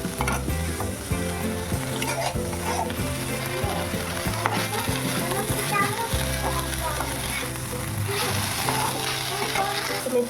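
Fenugreek greens fry and are stirred in a pan with a little sugar added, a continuous loud sizzle with scraping stirs throughout while someone talks nearby.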